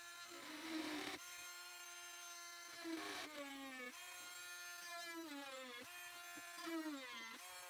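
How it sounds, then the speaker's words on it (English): A Dremel rotary tool grinds and finishes a large off-center turned wooden pendant, a close, high whining buzz whose pitch dips and rises repeatedly as the bit presses into the wood. "I'm using a Dremel just for the fast finish and for the groove in the middle"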